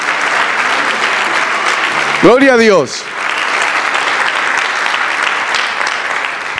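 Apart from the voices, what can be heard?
congregation applauding in church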